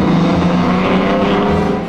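Racing cars roar past at the 1958 Cuban Grand Prix in Havana, a loud, steady engine drone holding for two seconds and easing slightly at the end.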